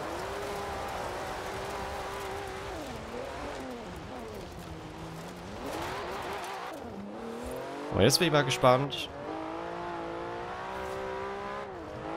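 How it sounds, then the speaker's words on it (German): Porsche 911 engine in Forza Horizon 4 revving and pulling hard through the gears with rising pitch, a brief tire squeal near the end, while someone talks over it throughout. "Der Wagen hat eine ordentliche Beschleunigung."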